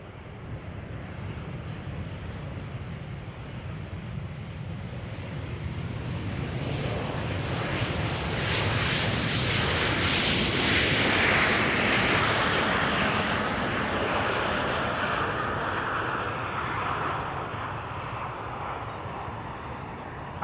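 KLM airliner arriving at Amsterdam Schiphol from Edinburgh, a distant jet rumble swelling gradually to a broad roar at mid-clip as it passes, then fading slowly away.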